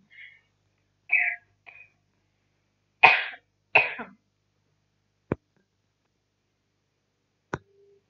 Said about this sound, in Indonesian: oke, tak batuk dulu.